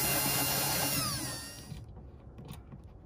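A power drill bores into a plastic Molle panel to enlarge a bolt hole, a loud whining grind for under two seconds before it stops, leaving faint handling noise.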